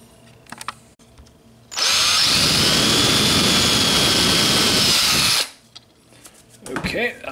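A power drill fitted with a 7/32 bit bores a hole in the plastic casing of a GE plug-in remote control, a loud steady whine lasting about three and a half seconds, framed by quieter handling noises.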